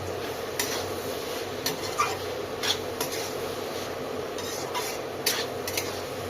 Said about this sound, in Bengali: প্লেটে ঢেলে নেব।